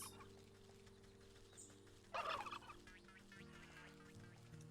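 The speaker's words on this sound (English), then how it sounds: "Hello, turkeys." Turkeys gobble in a short, bright burst within the video game Wytchwood, rising briefly over a quiet, steady backdrop of ambient game music.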